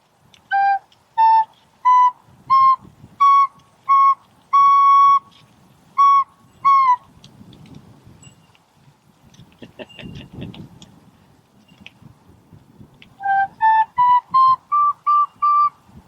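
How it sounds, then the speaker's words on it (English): A recorder plays a series of short, evenly spaced half notes stepping up in pitch, pauses amid faint rustling and thumps, then plays another rising run. "Now, with the recorder, this is going to sound like this"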